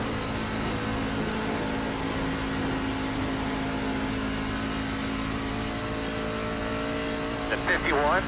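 Race cars circle a NASCAR track in Atlanta, heard as a steady, unbroken engine drone from a distance, with a brief burst of higher sound near the end.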